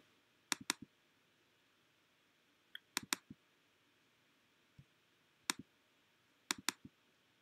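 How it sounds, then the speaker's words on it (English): A computer mouse is double-clicked several times, giving crisp paired clicks close to the mic, scattered across quiet gaps with a few single faint ticks between. "if you double click"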